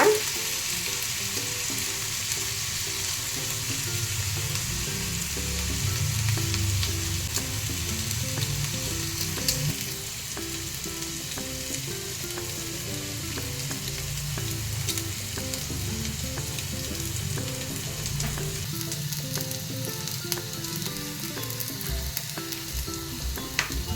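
Potatoes frying in oil in a pan make a steady, close, even sizzle with a bubbling hiss that holds for the whole stretch, with a few light clinks near the end and no one speaking.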